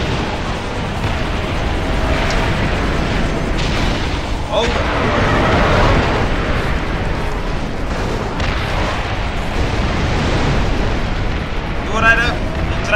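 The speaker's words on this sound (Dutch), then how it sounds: "lekker wat explosies" Loud, dense rumbling explosions and bursts fill a train chase in the James Bond Blood Stone video game, with repeated booms and crackling debris over continuous action noise and a sharper burst near the end.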